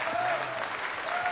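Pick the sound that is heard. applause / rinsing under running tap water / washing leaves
applause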